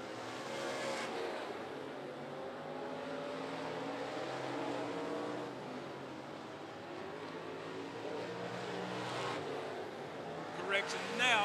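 Race cars roar around the track at 411 Motor Speedway during a Thunder & Lightning event, with the 71 and 9 cars battling. The engines hold a continuous loud drone under excited race commentary.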